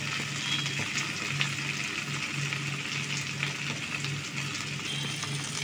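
Warm water goes into a pan of frying taro, and a steady, loud sizzle rises and runs continuously at close range. A faint low hum sits beneath it, and no one speaks.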